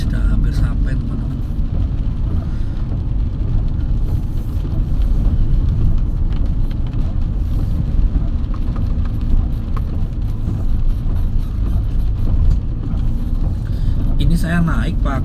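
A 2013 Toyota Xenia car climbing a foggy, rainy mountain village road, heard as a steady low engine and road rumble inside the cabin, constant and moderately loud from start to finish.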